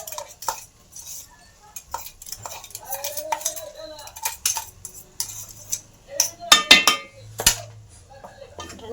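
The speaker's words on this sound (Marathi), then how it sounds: "वाटाणे टाकून घेऊ त्याच्यात." Green peas go into fried masala in a pan for keema, followed by intermittent clinks and scrapes of a metal spoon against the pan as the mixture is stirred, close up and uneven in rhythm.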